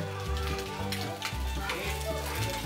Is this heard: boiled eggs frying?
yes